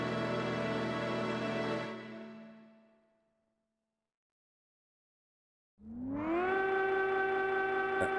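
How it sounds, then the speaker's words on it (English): A droning siren wails in the video game Final Fantasy XI. It fades away into silence, then swells back loud and sustained a few seconds later, with no voices over it. "That creepy ass siren."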